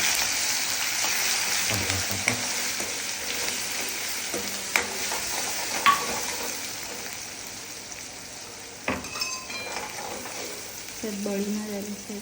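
Cumin seeds frying in hot oil in a home kitchen pan, a steady close sizzle running throughout with occasional stirring clinks and scrapes.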